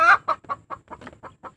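A fighting rooster clucks in a quick series of about eight short, close calls, the first loudest.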